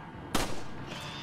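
A single sharp gunshot rings out in the Resident Evil 4 video game, a sudden loud crack followed by a short decaying echo and a faint ringing tail, with no talk over it.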